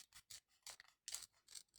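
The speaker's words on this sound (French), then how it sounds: "je vais peut-être prendre une paire de ciseaux, mieux. Je vais couper sa petite pochette." Scissors snip a small paper pocket in close, quiet, crisp cuts, about seven short blade strokes in an uneven rhythm.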